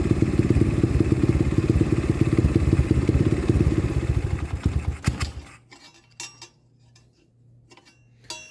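A 125cc pit bike fitted with a Nibbi 22mm carburetor runs its engine with a rapid, close, ticking chatter, then cuts out. A low hum and scattered clicks and clatter remain after.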